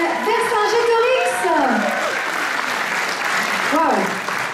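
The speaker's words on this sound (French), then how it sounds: "On applaudit très fort la troupe de la comédie musicale Vercingétorix." Loud audience applause for a musical theatre troupe at a Miss Côte d'Or pageant fills the room, with a voice speaking over it at the start and again near the end.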